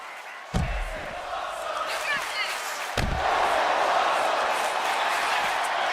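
Arena crowd in a WWE 2K25 wrestling game roars after a table suplex: two heavy slams thud through a sustained wall of cheering that swells louder after the second impact.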